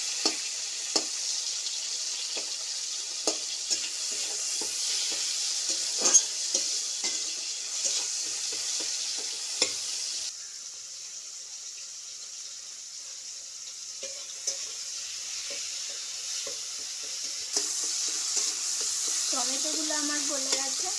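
Tomatoes fry with salt in a pan, giving a gentle continuous sizzle broken by frequent ticking scrapes of a spatula stirring. The clip ends with a faint trickle of water.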